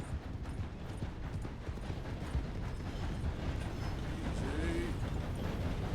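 Rhythmic hoofbeats of a horse galloping in Red Dead Redemption 2, steady and continuous under a dense, loud game soundscape with no talk.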